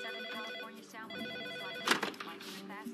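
An office telephone rings with repeated bright electronic trills, fairly close, while someone talks over it.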